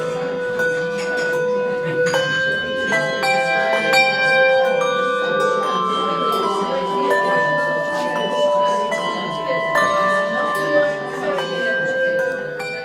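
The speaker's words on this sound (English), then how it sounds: "The welcoming sound of the St Mary's Walton church bells" St Mary's church bells in Walton ringing, overlapping bell tones striking in a steady sequence with a lingering resonant hum, fairly clear and unaccompanied by talk.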